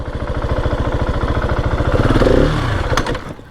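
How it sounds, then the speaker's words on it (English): A 2020 KTM 701 SM single-cylinder motorcycle engine runs close by with a steady throbbing pulse, then revs up briefly in a rising blip before settling back down. "I just don't want to rev the crap out of the bike because it's not broken in yet. It'll definitely do it though."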